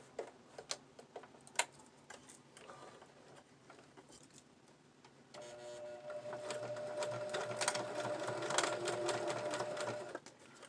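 A sewing machine stitches hook tape onto homemade hair curlers, starting with sparse ticks and light taps, then running steadily in a continuous close whirring hum through the second half.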